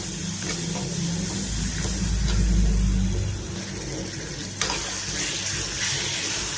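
Chicken liver frying with onions, rock salt and turmeric in a pan: a steady close sizzle with stirring throughout and a single clank of the utensil near the end.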